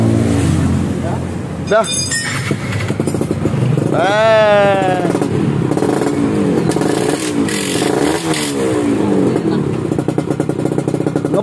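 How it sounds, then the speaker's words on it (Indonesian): A Yamaha F1ZR two-stroke motorcycle with freshly repacked exhaust glasswool idles loudly up close and revs several times, the engine note rising and falling while people talk over it. "Coba tolong hidupin om, sudah selesai seperti itu bro, tinggal kita tes aja dulu suaranya."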